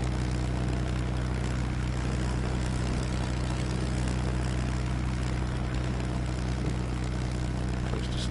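A propeller plane engine hums at low throttle in the Ultrawings VR game, a steady droning buzz that stays constant and close throughout with no talking.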